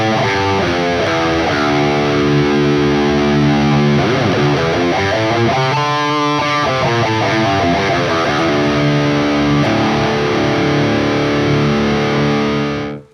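A heavily distorted electric guitar tuned to D standard plays a one-octave natural minor scale from the low open position, climbing and then descending in steady single notes before cutting off abruptly.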